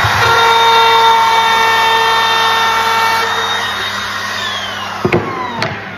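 A wood router cuts along a line, a loud, steady high-pitched motor whine that holds strong before slowly easing off, ending with a couple of sharp knocks.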